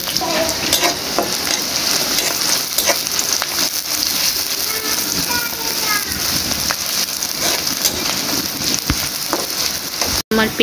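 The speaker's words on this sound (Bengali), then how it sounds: "আমার পেঁয়াজটা এই পর্যন্তই ভাজা" Onions frying in hot oil in a pan, a continuous close sizzle with occasional stirring scrapes and crackles, steady for the whole stretch.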